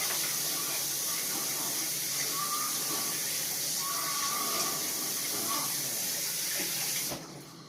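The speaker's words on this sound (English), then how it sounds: "we're going to rinse this" A kitchen tap runs steadily as a dish is rinsed under it, a close, even hiss of water that cuts off near the end.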